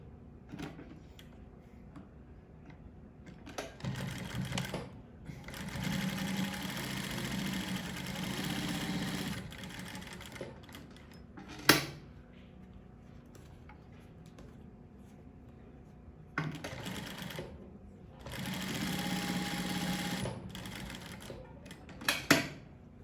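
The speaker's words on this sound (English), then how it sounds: "Then we go to our sewing machine and stitch" A sewing machine stitches the edge of a cargo pocket in two bursts separated by quiet pauses, with a few sharp clicks between them, close and moderately loud.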